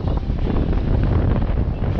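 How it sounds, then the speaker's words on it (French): Strong wind buffets the microphone aboard a sailboat crossing the Strait of Messina in choppy water, a steady loud rumbling roar with no voices. "Alors, on touche le vent."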